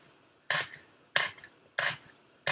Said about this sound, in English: So I cut a slice like this thick, and then I'm just gonna cut it up.